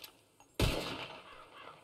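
One sharp gunshot from a rifle in a Red Dead Redemption 2 western roleplay game, fired at birds. It is a sudden loud crack with a rumbling tail that fades over about a second.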